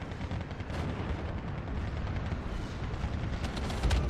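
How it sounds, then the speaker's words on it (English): Distant mortar and battle fire in the WWII strategy game Steel Division 2 rumbles continuously as a dense wash of thuds and booms, with a heavier impact near the end. "you can see my mortar fire still coming down"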